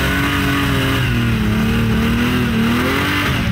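A home-built supercharged V8 Holden 4x4 engine revs hard and close, its loud throaty drone rising and falling in pitch as the throttle is worked, with no speech.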